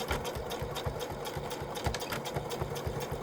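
A sewing machine runs steadily while stitching back and forth across a snap-on bag, its needle chattering in a fast, even rhythm that stays close and continuous from start to finish.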